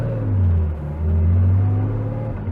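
A 1972 Porsche 911 RSR-inspired road racer with mechanical fuel injection rumbles close by, its engine note swelling, dipping briefly, then rising again in a loud, deep, continuous drone with no talking.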